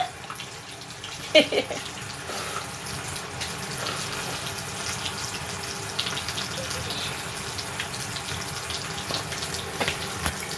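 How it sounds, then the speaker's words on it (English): A tap runs steadily into a sink while someone washes their hands, a close, even stream of water with a brief clatter near the start and faint background noise. "gonna wash my hands"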